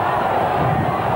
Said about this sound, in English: The crowd urge on.